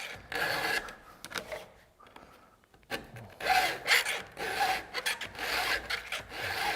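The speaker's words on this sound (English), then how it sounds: "Now on the backstroke, I'm not filing. I'm just taking the pressure off and moving it forward a little bit." A hand file rasping across a chainsaw chain, uneven scraping strokes close by with short pauses between them and a quieter gap partway through, no talk.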